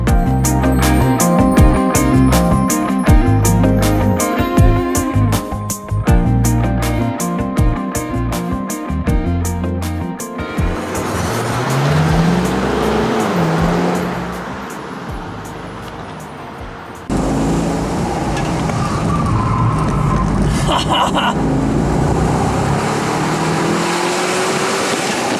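A 2015 Chevy Camaro SS Convertible driven hard, its V8 revving loudly and pulsing through gear shifts, then settling into steady road and wind roar near the end, with no talking.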